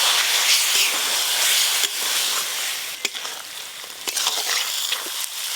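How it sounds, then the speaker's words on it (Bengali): A little water added to hot egg curry gravy with fried onions in a pan, giving a loud, close, hissing sizzle with steam, followed by a few sharp clicks and stirring scrapes as it settles. "অল্প একটু জল দেব।"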